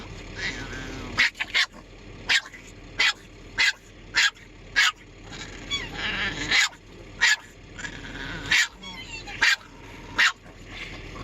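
A dog growls and barks in repeated sharp bursts, about a dozen loud barks spaced through a steady rumbling background.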